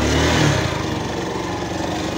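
Motorcycle engine revving close by, a loud buzzing burst that rises at the start and then settles into a rough, steady mid-pitched drone.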